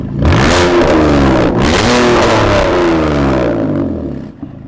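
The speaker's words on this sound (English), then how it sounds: "It's got like a whip and then a deep growl." A concept car engine revs hard with a sharp whip-like rise and then a deep, roaring growl, loud and close, rising and falling in pitch across several bursts before easing off at the end.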